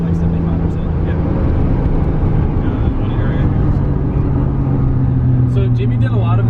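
A Nissan Skyline engine runs hard at full throttle, a loud sustained drone with steady low harmonics and a slight shift in pitch, with no pause.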